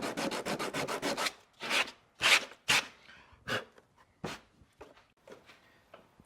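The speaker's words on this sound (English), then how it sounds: "we're going to go ahead and take some light sandpaper and just kind of take the edges off." Light sandpaper rubbing the edges of a welded repair on a cracked plastic kayak hull, a quick run of short rasping strokes followed by slower, separate scrapes, close and fairly clear.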